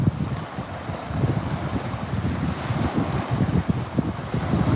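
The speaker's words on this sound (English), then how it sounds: "being here with these waves." Ocean waves wash in on an outdoor shore under heavy gusting wind buffeting the microphone, a loud continuous rumble with no one speaking.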